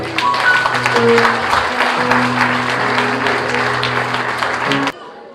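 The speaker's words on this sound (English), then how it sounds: "Give us a big applause." Audience applause at a church gathering, steady and dense for about five seconds with faint music or talk underneath, then cutting off abruptly.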